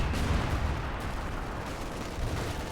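Mortar fire from a double mortar pit in Company of Heroes 2 booms as a heavy, continuous barrage, with dull thuds and rumbling blasts layered over each other.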